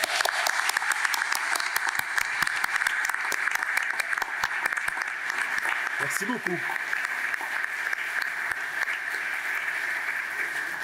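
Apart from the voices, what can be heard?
audience applause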